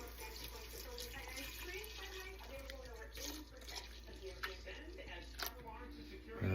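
Milk pours steadily into a cooking pot for one-pot mac and cheese, a soft continuous liquid trickle with faint voices and kitchen sounds underneath.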